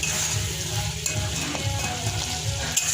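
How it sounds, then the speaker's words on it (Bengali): Dried chepa shutki fish frying with spices in hot oil for an eggplant curry, a steady close sizzle and crackle with occasional stirring scrapes, no voices. "মশলা টশলার সাথে চ্যাপাটা দিয়ে দিলাম। এটা এখন বেশ কিছুক্ষণ কষাবো আমি।"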